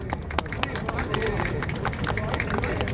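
A rally crowd outside the Supreme Court claps and cheers to welcome Hwang Kyo-ahn, with dense, steady applause and scattered sharp claps standing out over a busy background of murmuring voices.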